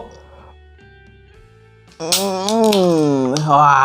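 A bottle of Wild Brew peach malt drink (600 ml) opens with a sharp crack and hiss about halfway through, after a quiet start, and a loud voice speaks right over it.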